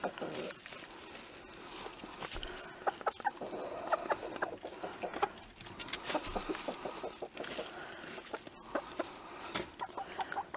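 Chickens in a winter coop cluck and chatter in bursts over continuous rustling and scratching, with a person talking quietly now and then.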